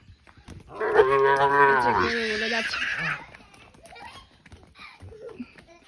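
A single loud, drawn-out cow moo close by lasting about two seconds, followed by quieter shuffling and faint farmyard noises.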